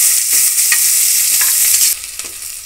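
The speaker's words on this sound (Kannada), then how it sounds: "ನೋಡಿ ಫ್ರೆಂಡ್ಸ್, ಈರುಳ್ಳಿ ಈ ಥರ ಫ್ರೈ ಆಗಬೇಕು." Sliced onions frying in oil in a pan for egg biryani, a loud steady sizzle with repeated scraping strokes of a spoon stirring them, close up and with no voices.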